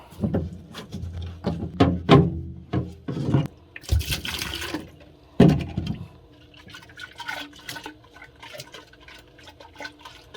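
Water poured by hand from a jug during cleaning of a tankless water heater filter, giving irregular splashes and trickles, with a stronger gush near the middle and quieter dribbles after.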